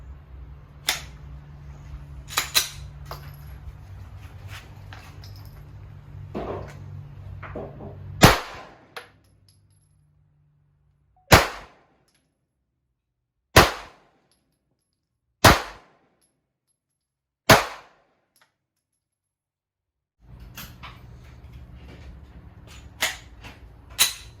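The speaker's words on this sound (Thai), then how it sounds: "ครับตอนนี้เดี๋ยวเริ่มเลยนะฮะ เดี๋ยวลองยิงศูนย์ปืน ดูศูนย์ปืนก่อนนะ" A Glock pistol fitted with a MicroRoni kit fires at an outdoor shooting range, five sharp, loud shots spaced a couple of seconds apart, with a low idling rumble and clatter of range noise before and after.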